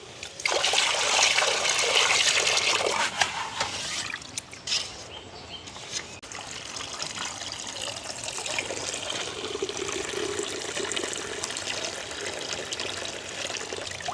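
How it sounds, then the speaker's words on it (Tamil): Sesame seeds being washed in water in a village kitchen, a steady trickling and sloshing of water that runs continuously, close and moderately loud, with a brief quieter pause partway through. "நாங்கள் இன்னொருக்கா கழுவி எடுப்போம்"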